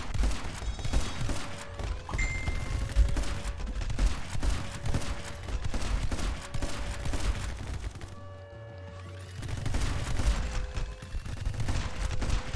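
Rapid bursts of video game gunfire from My Friend Pedro crackle almost without pause, with thumps and impacts mixed in and a short lull near the end, loud and close under a game soundtrack.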